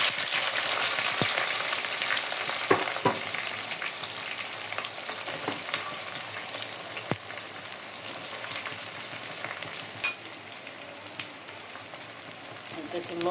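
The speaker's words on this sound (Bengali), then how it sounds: "একটু লবণ দিয়ে আমি সুন্দর করে পেঁয়াজটাকে ভেজে নেব" Chopped onion and green chili frying in a pan with a little salt, a steady broadband sizzle throughout with a few soft clicks and scrapes of stirring, close and fairly even in level.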